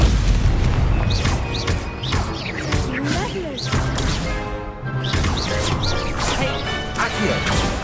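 Stupefy spell cast in Hogwarts Legacy combat against new enemies: repeated loud magical blasts, crashes and whooshing impacts over dense game music and effects, continuous and busy throughout.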